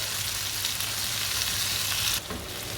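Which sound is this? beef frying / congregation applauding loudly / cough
beef frying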